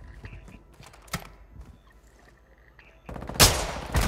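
Gunfire in a multiplayer shooter video game: a few sharp shots early on, then a loud rapid burst at the end, with game sounds under it and little talk.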